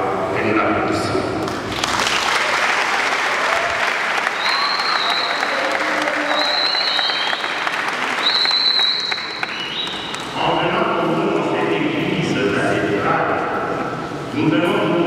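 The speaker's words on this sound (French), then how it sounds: "Nous allons demander au Seigneur qu'il te traite avec miséricorde" Congregation applauds during a birthday mass, sustained clapping from a large gathering with a voice speaking over it partway through and other voices mixed in.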